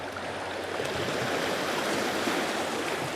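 Incoming tide water washes against a windy shore in a steady, dense rush of surf noise that holds at one level throughout, with no voices.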